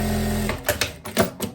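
Sewing machine stitching straight seams on a loose viscose dress with ruffles, a steady mechanical hum breaking into a few short bursts of stitching near the end.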